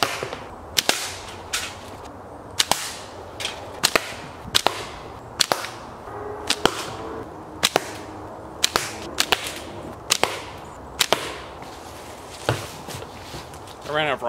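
A Daisy PowerLine F16 slingshot firing small gravel rocks at cans and cardboard, giving sharp, loud snapping releases and impacts spaced a second or two apart over about fourteen seconds.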